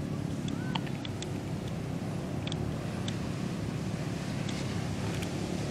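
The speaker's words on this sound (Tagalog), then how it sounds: "Ang lakas ng alon." Strong ocean waves breaking at a beach, a steady broad roar of surf and wind close by, with faint scattered clicks above it and no voices.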